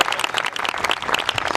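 An audience at a Delhi Police Week 2021 event at Mandawali police station breaks into dense, sustained applause, with loud, close clapping filling the whole moment.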